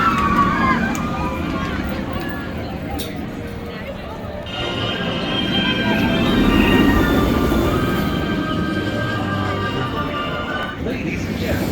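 The Jurassic World VelociCoaster roller coaster at Universal Orlando running during technical rehearsals, a rolling rumble of train wheels on track that swells and fades, heard under nearby crowd talk.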